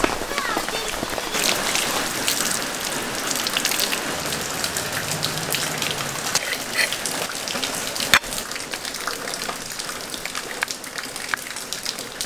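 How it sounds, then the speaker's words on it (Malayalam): Heavy rain pours nonstop in a steady, dense roar of drops striking surfaces, loud and close throughout, with one sharp knock around the middle and no clear speech. "മഴ ഇങ്ങനെ നിൽക്കാണ്ട് പെയ്തുകൊണ്ടിരിക്കുകയാണ്"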